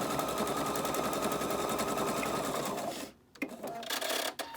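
A sewing machine stitches around the panels of a six-panel welding cap with no band, running loud, fast and steady for about three seconds before stopping, followed by a few softer handling noises.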